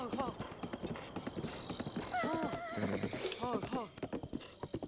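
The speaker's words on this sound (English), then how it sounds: "I'm only getting the 4 spur horses." Horses gallop with a steady clip-clop of hooves and an occasional whinny in the Zelda game Tears of the Kingdom, loud and close under continuous voices talking.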